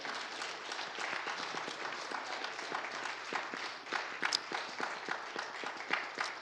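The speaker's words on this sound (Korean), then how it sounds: "우리 박수하겠습니다." Applause from a church congregation during an ordination service, steady clapping filling the room at moderate volume for several seconds.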